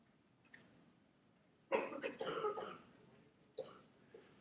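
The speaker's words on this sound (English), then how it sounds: "Who is it over there that's coughing?" Several harsh coughs from a person in a lecture hall, a loud burst of two or three followed by a quieter single cough, over a faint room hush.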